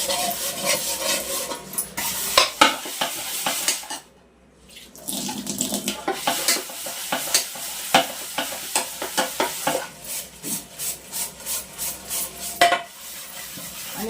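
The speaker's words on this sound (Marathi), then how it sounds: "पण तारेच्या घासणीने घासायचं" Aluminium container scrubbed with a steel wire scrubber at a sink, with running water and rhythmic abrasive strokes, a brief pause, then a steady series of short evenly spaced scrapes, close and fairly loud.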